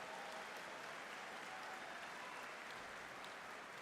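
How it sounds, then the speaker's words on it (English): A commencement crowd at Southern Illinois University claps for graduates and guests, a faint, distant, steady wash of applause with no talk over it. "Give them a big round of applause."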